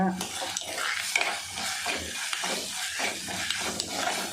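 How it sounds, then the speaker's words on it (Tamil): Ginger-garlic paste sautés in a pan, with a steady sizzle and repeated stirring scrapes in an even rhythm, close and fairly loud, with no talk. "இஞ்சி பூண்டு ஒரு ஸ்பூன் போட்டோம்னா நல்லா பச்சை போக வர நம்ம இதை வதக்கலாம்"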